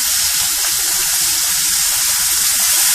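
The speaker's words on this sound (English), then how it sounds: "So you just watch it and you just let it sear." Four steaks sear in a hot pan with a loud, continuous, dense sizzle that holds steady throughout, with no pauses or breaks.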